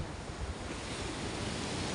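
Strong wind at the seashore beside fishing boats, a loud, steady roar of gusts buffeting the microphone over crashing surf, with no talking.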